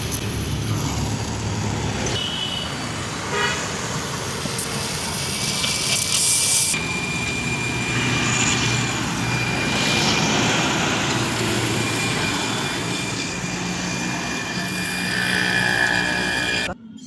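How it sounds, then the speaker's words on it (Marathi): Welding on a torn silencer of an Alto car produces a loud, steady crackling hiss that runs almost without a break for the whole stretch, close up. "हे असं वेल्डिंग मारणार आहे बघा."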